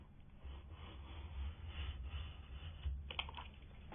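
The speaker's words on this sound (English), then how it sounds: "Here I'm using a knife and a straight edge," A utility knife slicing wallpaper along a straight edge at the top of a wall, a faint, steady scratchy rasping that drags on continuously, with a couple of small clicks near the end.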